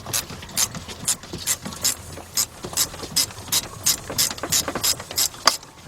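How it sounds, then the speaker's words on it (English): A 3/8 drive ratchet loosening a bolt on a 2006 Chevy Silverado C1500 during A/C compressor replacement, rapid repeated clicking strokes of the pawl in bursts, close and clear with no talk. "3/8 drive ratchet. And I'm gonna go right here. I'm gonna loosen up that bolt."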